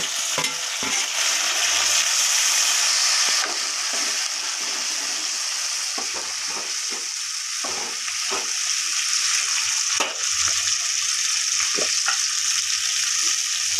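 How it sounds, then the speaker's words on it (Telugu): Onion, green chillies and tomato fry in a pan with a loud, steady sizzle, broken by repeated scraping stirs. "ఉల్లిగడ్డ అయితే కొంచెం ఎర్రగా వేగింది."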